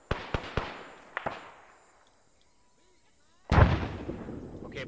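Artillery rounds land in the Vietnam-era Arma jungle campaign as several sharp distant booms, a cluster early on and another burst, then quiet until one heavy rolling explosion hits near the end.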